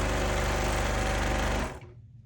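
A sewing machine stitches steadily in free motion quilting on a baby star quilt at a 2.5 stitch length, running loud and close in a fast even buzz before winding down near the end.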